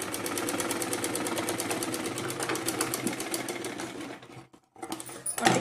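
A sewing machine stitches a blouse frill, a rapid steady mechanical chatter running continuously up close, then stopping briefly and restarting with a few clicks near the end.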